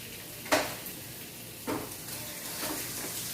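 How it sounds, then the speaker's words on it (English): Food sautéing in a pan gives a soft, steady sizzle, broken by two or three brief scrapes or stirs of a utensil; faint and close, with no talking. "Let that saute."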